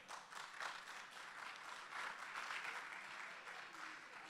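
An audience at a class survey presentation claps as a show of opinion, a soft, fairly distant patter of many hands that holds steady for several seconds.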